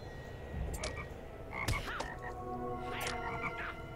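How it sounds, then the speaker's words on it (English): Slippery toads croak in Lord of the Rings Online, a scatter of gurgling, chirpy calls over a dense, steady ambient game background. "there's some slippery toads"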